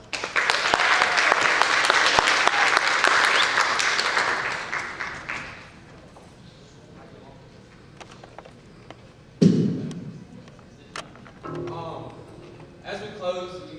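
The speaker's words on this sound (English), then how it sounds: "them another round of applause." A community college unity program audience gives a round of applause, a dense burst of clapping for about five seconds that fades out, followed by a thump and a speaking voice.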